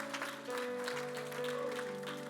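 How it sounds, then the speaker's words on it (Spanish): A church congregation claps together in a brief, dense patter of applause, moderately loud, over sustained keyboard chords. "Dele ese aplauso fuerte a Cristo"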